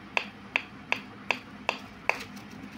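The mechanism of an HMV 102 gramophone clicks six times in a steady rhythm, each sharp, close tick spaced about a third of a second apart, with no voices.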